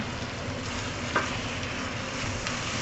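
Chicken frying in a pan with curry leaves, a steady soft sizzle with faint stirring and one small clink partway through, fairly quiet with no voices.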